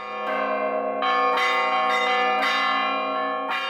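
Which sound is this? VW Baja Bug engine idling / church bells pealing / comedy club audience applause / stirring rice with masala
church bells pealing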